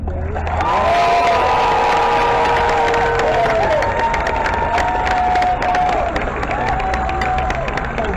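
A large crowd at the 2021 NFL Draft tailgate party in Cleveland cheers loudly and continuously, with applause, whoops and shouts layered through the roar.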